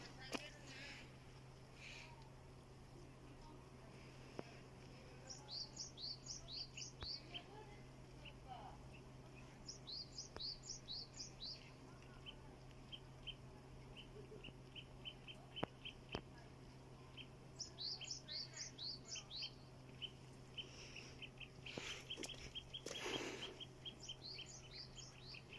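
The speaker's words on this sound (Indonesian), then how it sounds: "seperti burung-burung itu hidupnya di tengah kota teman-teman." Birds chirp in a city park in Japan, quick bright bursts of several notes repeating every few seconds over a steady low hum of distant city noise.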